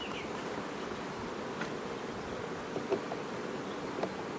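Honeybees hum around an opened beehive in an apiary, a steady, fairly quiet drone of many wings with occasional nearer passes, and no voices.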